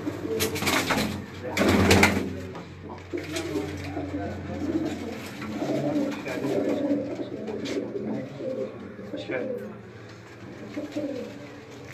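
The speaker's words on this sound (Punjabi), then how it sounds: "ਇਹ ਮੇਰਾ ਫੇਵਰਟ ਕਬੂਤਰ ਹੈ।" A pet pigeon, a keeper's favourite, coos in a village yard, soft low rolling calls repeating over quiet background ambience with no clear talk.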